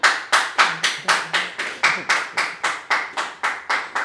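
Nursery school children clapping together in a steady, rhythmic beat, about three claps per second, loud and close, with no talk over it.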